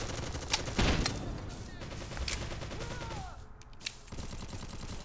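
Gunfire from a slow-firing gun in the Bullet Force shooter game, heard as a few sharp shots over a busy, continuous game soundscape with occasional bursts.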